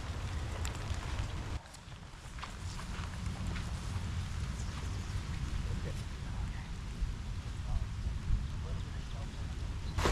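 Heavy rain pours steadily over a woodland hammock campsite, a dense hiss with scattered drips and patters on nearby surfaces and some low wind rumble, continuous and fairly close.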